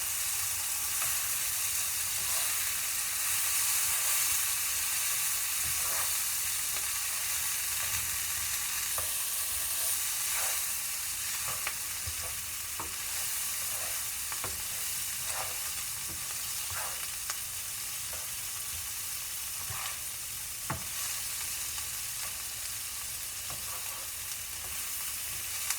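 Butter browns in a pan with a steady, even sizzle and frying crackle that runs unbroken at a moderate level, dotted with small pops and faint stirring taps.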